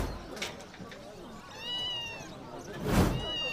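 A small kitten meows a few times in a pet shop, its short rising cries coming close and fairly loud between people talking.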